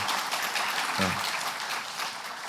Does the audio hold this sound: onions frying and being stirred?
no